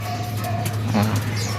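Soft pigeon cooing sits low under a steady hum, with a faint flutter of wings and a few thin chirps.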